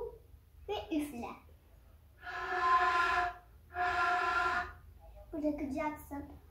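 A ney flute blown by a learner during a lesson, giving two sustained breathy tones of about a second and a half each, separated by a pause, with an instructor's voice talking before and after.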